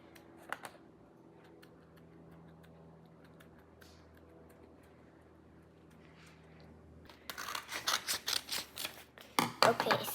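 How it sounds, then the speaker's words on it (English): Paper is cut with scissors in a crafting tutorial, a quiet stretch followed by a burst of close, rapid snips and crinkles toward the end; a voice is heard. "Cut the paper this way, not this way, this way."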